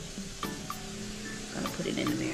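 A pot of Gullah Geechee okra soup bubbles on a home stove, a steady hissing simmer with small pops and clinks close by.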